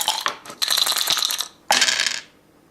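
Four dice clatter and rattle across a board game surface in two quick bursts, a close, bright tumbling that stops abruptly after each throw.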